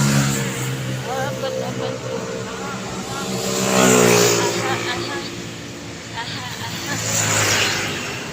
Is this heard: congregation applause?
no